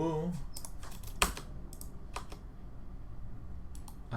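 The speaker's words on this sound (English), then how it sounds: "Markio, did I type in your thing wrong?" Keystrokes tap on a computer keyboard in quick, irregular bursts with one sharper clack, quiet and close, with a brief voice at the very start.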